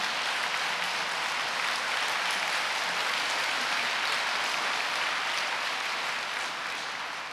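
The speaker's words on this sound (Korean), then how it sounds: "여러분 격려의 박수 부탁드립니다" A church congregation gives a loud, sustained round of applause in encouragement for newly appointed pastors. The dense clapping holds steady for about seven seconds and only barely eases at the end, with no talking over it.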